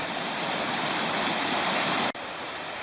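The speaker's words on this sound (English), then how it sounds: "Down there's the creek that we just crossed, Cantrell Creek." Flowing water of Cantrell Creek, a steady broadband rush of a nearby mountain stream that holds constant, then cuts off abruptly near the end before resuming.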